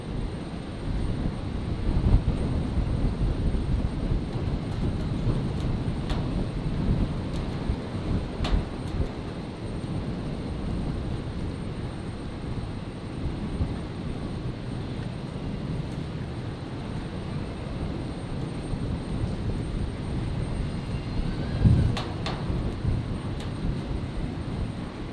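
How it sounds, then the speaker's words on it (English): An Air New Zealand A320neo climbs away into stormy clouds at night, its engine roar a broad, steady rumble at moderate distance, with wind noise and a brief sharp crackle partway through. "the New Zealand 320 Neo disappearing very fast into the clouds there"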